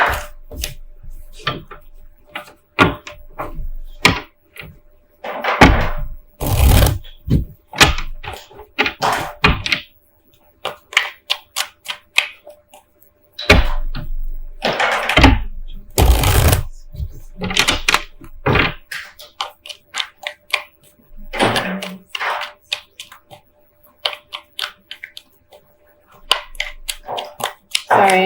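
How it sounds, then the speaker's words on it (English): A toddler bangs toy blocks together nearby, producing irregular clusters of sharp wooden knocks and thuds with quiet gaps between bursts. "Sorry, I have a toddler playing with blocks."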